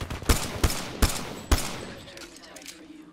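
Gunfire in a multiplayer arena shooter game, four sharp shots in uneven succession during the first second and a half, followed by a quieter tail of background game sound.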